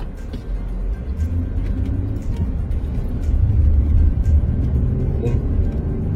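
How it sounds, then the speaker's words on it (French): Road traffic in Abidjan, a steady low rumble of passing cars and engines that swells louder midway, close by and continuous with no talk. "ça c'est les aléas de la circulation"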